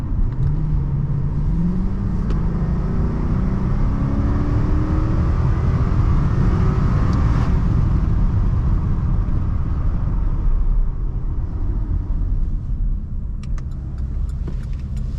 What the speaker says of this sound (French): le bruit du V8, c'est magnifique